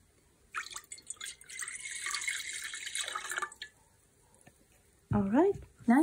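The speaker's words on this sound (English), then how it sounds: "this is where you're going to pour the water first" Water splashes into a pot for about three seconds at close range, then stops, followed by a brief voice near the end.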